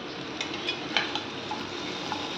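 Pumpkin frying in a pan for a Bengali kumro bhorta, a steady soft sizzle with a few light stirring clinks close by, no talking.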